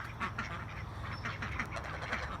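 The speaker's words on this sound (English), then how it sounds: "These are all ducks except for that one closest to us." A flock of ducks with one goose among them on an old farm, quacking in quick overlapping bursts, close and fairly loud, with no talk.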